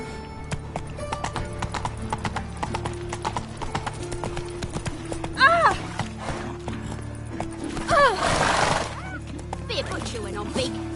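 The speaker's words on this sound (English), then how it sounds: "Run, Roach" Horse hooves clip-clop steadily through a game scene in The Witcher 3, with two short neighs or whinnies standing out around the middle, over a continuous musical and ambient bed with some game voices.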